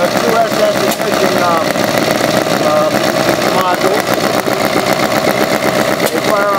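A homemade, scratch-built opposed boxer engine runs steadily at close range, a loud, even, rapidly pulsing engine note filling the clip with no pauses.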